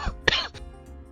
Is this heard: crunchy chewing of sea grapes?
no